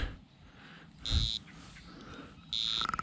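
An electronic fishing bite alarm gives two loud, piercing, steady beeps about a second and a half apart, over quiet background noise beside the water.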